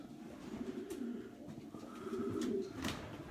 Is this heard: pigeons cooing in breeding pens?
yes